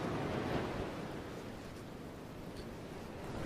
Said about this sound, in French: Les vagues de la mer avancent puis reculent en emportant du sable avec elles.